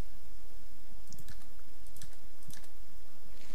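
Computer keyboard typing while modeling a trumpet in 3ds Max, with backspace presses: a few sharp, close key clicks spaced roughly half a second apart over a steady hiss.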